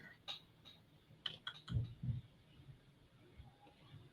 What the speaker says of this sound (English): Let me go and type his name.